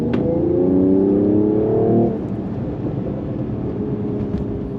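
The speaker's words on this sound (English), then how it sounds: "We're in Sports Plus, holding the gears pretty good." A Mercedes-Benz CLS 53 AMG accelerates hard in Sports Plus mode on a slick road, its engine climbing loudly for about two seconds before easing off into a steady, quieter road hum, with no talking.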